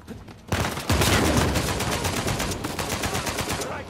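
Rapid sustained automatic gunfire in the video game Uncharted 4 erupts after a short lull, a loud dense burst of shots that continues for several seconds with no talk over it.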